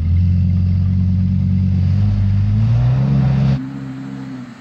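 An Audi R8 with an automatic gearbox and stability control on tries to creep up a snowy slope, its engine droning loudly and steadily before the sound abruptly drops away near the end.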